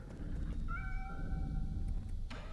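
A cat meows in the video game Nine Sols: one drawn-out, clear meow heard over a steady low rumble of game ambience, with a faint short cry at the end.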